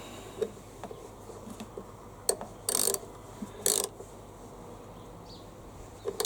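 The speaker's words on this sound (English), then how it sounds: "I'll just tighten that nut up again" A lock nut being tightened on a Hyundai HYM530SPE lawnmower gives a series of close, sharp metallic clicks and two louder ratcheting bursts from the wrench, with no talking.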